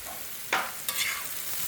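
Bell pepper dropped into a pan of golden fried onion, giving two quick bursts of sizzling and frying noise that fade into a soft steady hiss.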